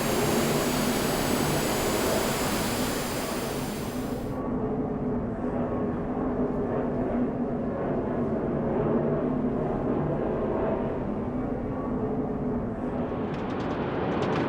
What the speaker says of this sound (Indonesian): Flight 386 mulai melakukan take-off dengan speed take-off yang sudah diatur sebelumnya